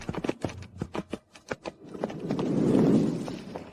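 Horse hooves clip-clopping in a quick, uneven run of sharp knocks, fairly close, followed by a swelling rush of noise as the horse moves off, no talk.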